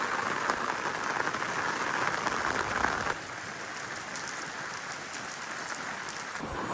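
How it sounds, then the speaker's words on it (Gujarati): Heavy rain pours steadily with gusty wind, a dense continuous hiss of drops drumming on surfaces close by, slightly easing partway through, with no voices. "તો આ વરસાદ કેટલો દેખાય છે જો, કેટલો વરસાદ છે, ફૂલ વરસાદ છે આમાં"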